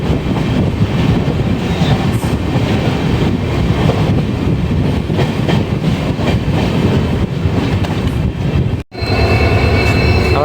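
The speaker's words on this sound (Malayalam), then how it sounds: "അവിടെ വേളാങ്കണ്ണി എക്സ്പ്രസ്സിനെ ഇവിടെ വരെ കൊണ്ടുവന്ന ലോക്കമാണ് കേട്ടത്" A locomotive hauling the Ernakulam–Velankanni Express rolls past close by, a loud continuous rumble of wheels and carriages with rattling clatter, briefly dropping out before resuming at full volume.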